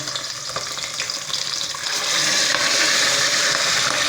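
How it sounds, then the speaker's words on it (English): Duck pieces, quartered legs, thighs and wings, frying in very hot oil in a home kitchen, a steady close-up sizzle and crackle that swells louder after a couple of seconds and holds. "Oil is well hot. And we got some wings in it now."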